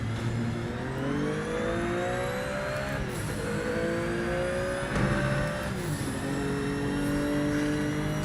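Turbocharged race car engine revving continuously in a motor racing video game, with rising and falling pitch sweeps as it accelerates and shifts gears, loud and steady throughout with no talk.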